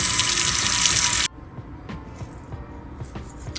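Water gushing strongly from a kitchen tap into a pot while cornmeal porridge is being prepared, loud and steady for over a second before it is abruptly shut off, leaving quiet handling clatter.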